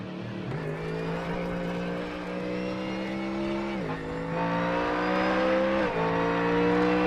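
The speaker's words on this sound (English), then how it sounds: "Listen to that sound, the rumble of those cars. That's a Ford Mustang for you, mate." Ford Mustang race cars in an endurance series race rumble steadily with a deep engine drone, revs shifting and rising slightly as they run on, loud and continuous with no talk.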